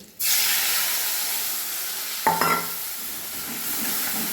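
Spice paste stir-fried into a black cumin tempering for a hilsa fish curry bursts into a sudden, steady hiss, with a few close spoon knocks against the pan midway.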